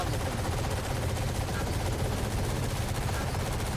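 Gunfire in a video game rattles as dense, rapid, continuous shots, loud and close for the whole short stretch.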